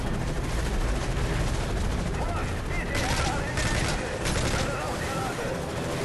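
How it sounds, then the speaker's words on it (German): Sustained bursts of gunfire in the shooter Call of Duty Modern Warfare 3, several loud rattling volleys over dense battle noise, with a voice talking in German over the action. "Warum schießt du auf mich?"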